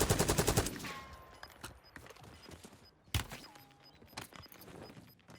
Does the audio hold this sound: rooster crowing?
no